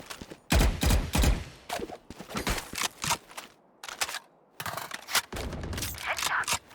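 Rapid bursts of gunfire in the shooter game Valorant, sharp shots in quick clusters broken by short pauses, with a player's voice calling out under the shooting.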